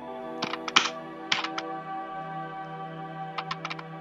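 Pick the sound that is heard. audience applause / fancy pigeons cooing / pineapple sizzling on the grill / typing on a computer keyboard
typing on a computer keyboard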